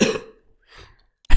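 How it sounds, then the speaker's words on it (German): A person coughs twice, a sharp burst at the start and another at the end with a faint breath between, loud and close. "Das Husten hat perfekt dazu gepasst."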